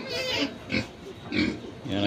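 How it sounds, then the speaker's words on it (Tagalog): Native pigs on an organic farm grunt and oink in several short, close bursts, a few spaced calls within about two seconds. "These are native pigs."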